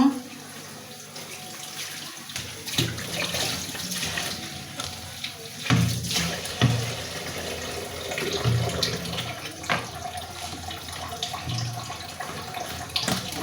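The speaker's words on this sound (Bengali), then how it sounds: "লাউগুলো এখন লাউগুলো ধুয়ে নিব ডাল দিয়ে রান্না করার জন্য" Young bottle gourds are washed under a running tap in a small space, with steady splashing water and intermittent clunks and rubbing as the gourds are handled.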